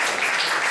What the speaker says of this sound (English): let's give a round of applause for Baba Jai Mataji and Ganesh